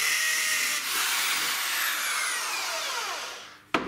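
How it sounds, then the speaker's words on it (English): A steady, loud whirring of a power drill running continuously while drilling a hole for model railway points, with a pitch that drifts slightly, ending in a sharp knock. "what you need to do is you need to drill a hole"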